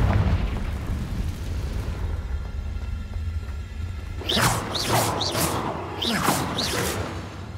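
A fiery Confringo blast spell in Hogwarts Legacy gives a deep rumbling boom with whooshing bursts, followed by several sharp, swooping magical zaps close up.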